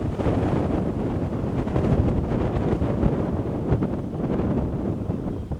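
Strong gusting wind buffets the microphone in a continuous loud roar during an outdoor drone flight test in harsh wind, with no voices heard.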